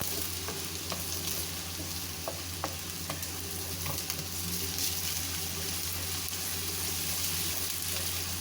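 Cauliflower (gobi) frying in a pan makes a continuous soft sizzle with scattered light taps and stirring clicks, fairly quiet and steady under a low background hum.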